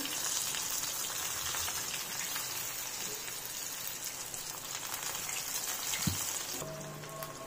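Chicken pieces deep frying in hot oil for KFC-style crispy chicken, a steady dense sizzle and crackle throughout, fairly close, with a brief clink near the end.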